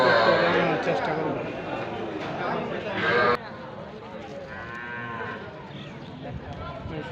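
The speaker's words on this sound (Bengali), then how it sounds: "এখানে দেখা যাচ্ছে একটি শাহিওয়াল জাতের ষাঁড় গরু।" Sahiwal bull and other cattle mooing at a busy cattle market in Madhabpur, Habiganj, with loud drawn-out lowing calls close by over constant crowd chatter and talk.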